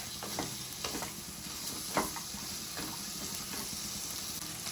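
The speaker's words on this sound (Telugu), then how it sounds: "హై ఫ్లేమ్లో పెట్టి ఫ్రై చేసుకోవాలి ఒక 2 to 3 minutes." Mutton paya (goat trotters) fry on a high flame in a pan, with a steady close sizzle broken by occasional stirring scrapes and clinks. No one speaks.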